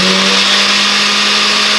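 An Oster 14-speed household blender's motor runs at full power, a loud, steady, close whirring roar with a constant hum and no pauses.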